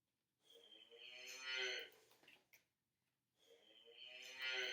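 A cow moos twice, each call a long, drawn-out low that rises and swells, with a short pause between them. The calls are clear and close, with no talk.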